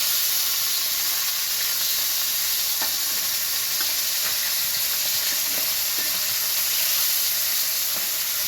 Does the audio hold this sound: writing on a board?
no